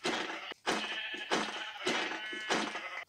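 Sheep in the video game Minecraft bleat five times in a row, each cry about half a second long with short gaps between, close and clear with nothing else over them.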